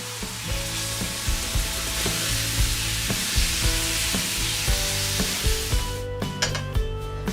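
Marinated beef steak, pork chops and chicken sizzle steadily on a cast iron grill, a loud continuous fry with crackles and pops throughout; a few sharper scrapes come near the end.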